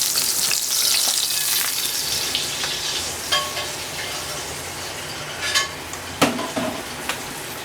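Pork chops fry in a pan over medium-high heat, giving a loud, steady sizzle and crackle with a few clinks of utensils against the pan toward the end.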